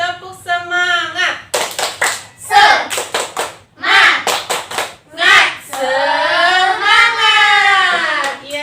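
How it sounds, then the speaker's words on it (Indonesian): Children clap a rhythmic spirit-clap pattern in a classroom, sharp hand claps in quick bursts alternating with group chanting and children's voices calling out together. "Tepuk semangat dulu coba sekali lagi."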